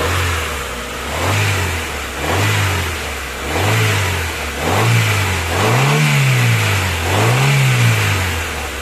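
A car engine runs close by with a rhythmic, surging idle, rising and falling roughly once per second in a steady wavering cycle, no talking over it.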